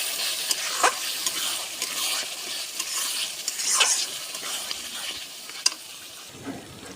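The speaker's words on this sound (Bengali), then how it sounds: "নুন দিলাম, এবার এসব কষাচ্ছি।" Chicken curry spices and salt being sautéed in a pan for a birthday meal cooked over a wood fire, with a steady close sizzle and repeated scraping stirs across several seconds, no talking.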